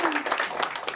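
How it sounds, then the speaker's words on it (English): A stand-up comedy audience gives a short burst of applause, dense clapping from a crowd nearby, with a voice speaking over it. "round of applause for them as well, guys"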